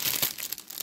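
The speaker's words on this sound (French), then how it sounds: "ces petits stickers que je vais remettre dans le paquet" Small stickers slid back into a crinkly plastic package, giving a short burst of close, soft crinkling and rustling that fades within a second.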